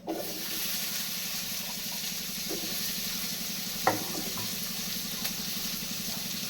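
Onions hitting hot oil in a Tamil home kitchen while cooking intestine curry, giving a steady broadband sizzle over a low humming buzz, with a few faint clinks and stirring scrapes scattered through.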